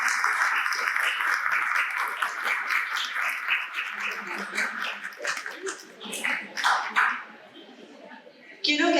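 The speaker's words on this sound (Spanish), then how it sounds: "Fuertes los aplausos, por favor." An audience applauds at an education talk about AI tools for the classroom, with a dense clapping wash that thins into scattered claps and fades near the end.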